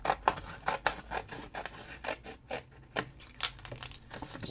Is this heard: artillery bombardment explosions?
no